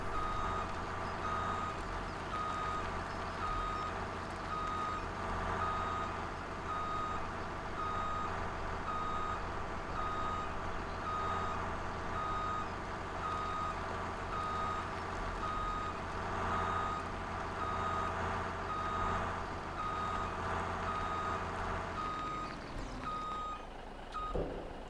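Steady reversing beeps from a truck in Farm Simulator 17, repeating at an even rhythm over a constant low engine drone, fairly loud and close throughout, with no talk.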